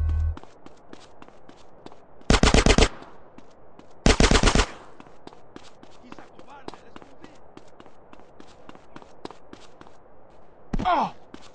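Gunfire in GTA San Andreas, with two short loud automatic bursts amid a steady patter of footsteps and game effects, and a brief voice near the end.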